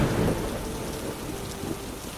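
Steady rain falling with low rumbling thunder underneath, a dense continuous wash of sound, louder at the start and then settling, with no voices.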